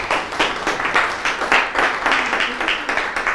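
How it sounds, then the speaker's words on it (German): Audience applause at a December contemporary art gallery and museum opening, a steady wash of many hands clapping with slightly pulsing rhythm, moderately loud and continuous without talk. "Und mal einen herzlichen Applaus"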